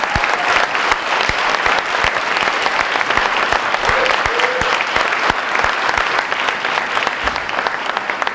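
A banquet hall full of people at a high school senior banquet breaks into loud, sustained applause, dense clapping from many hands that rolls on steadily with no voices over it.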